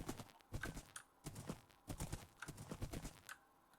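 A horse's hooves clip-clop in a steady walking rhythm in a video game, close but faint, with no talk over them.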